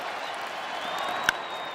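A packed ballpark crowd at a Yankees–Brewers game keeps up a continuous roar of cheering and clapping, with one sharp clap or crack cutting through briefly near the end.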